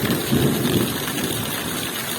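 Steady moderate rain falls in the Lviv region of Ukraine in a dense, even hiss, with a low rumbling wash underneath, continuous and fairly close for the whole stretch.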